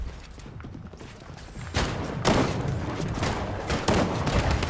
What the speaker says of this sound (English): Am I the one getting shot at, or are you?